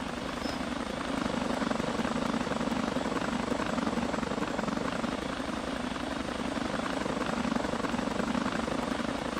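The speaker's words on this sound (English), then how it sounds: "Let me know if this helicopter engine is a bit loud." Constant loud whir of a helicopter engine and beating rotor blades in GTA 5, holding steady throughout without any voices.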